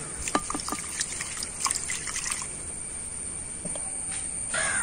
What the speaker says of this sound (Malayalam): എന്നിട്ട് വെള്ളം കളഞ്ഞാൽ മതി.